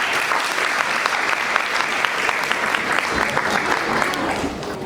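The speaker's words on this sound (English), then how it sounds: "Let's have a big round of applause for our school choir." Sustained audience applause for a school choir at a secondary-section annual day event, dense and steady throughout, a broad crowd of clapping hands filling the hall with no pauses.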